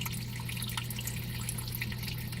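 Water trickling through a siphon tube, a faint continuous thin flow with tiny drips, steady and close with a low background hum.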